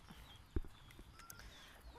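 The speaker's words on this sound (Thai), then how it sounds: "ไก่ นะครับ" Chickens, some of them village fowl, cluck faintly in a quiet farmyard, with one brief knock and a few soft calls in the background.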